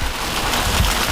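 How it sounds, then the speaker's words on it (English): Heavy rain pours down during an Atlantic ocean rowing crossing, a loud, dense, steady hiss of drops with a low rumble of wind beneath. "That's a downpour."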